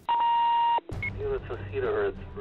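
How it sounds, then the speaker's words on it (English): A Hatzalah emergency medical two-way radio gives a sharp, steady electronic beep lasting under a second, then a burst of garbled transmission chatter follows. "you definitely feel that adrenaline rush every time the radio beeps"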